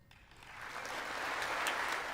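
Applause from the joint session of the US Congress for Volodymyr Zelensky's speech, a broad wash of clapping that swells from quiet to sustained and loud across the whole stretch.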